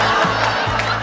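A stand-up comedy audience cheers and whoops in a short, loud burst of crowd noise.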